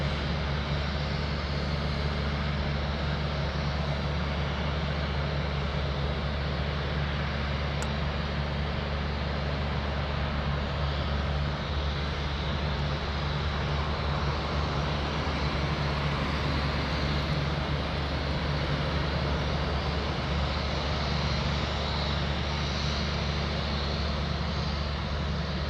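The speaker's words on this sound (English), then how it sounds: "let's enjoy the sound of the A330 heading to" An Airbus A330 airliner takes off for Mexico City at Anchorage airport, with a steady, loud jet-engine roar that holds constant throughout and no talking.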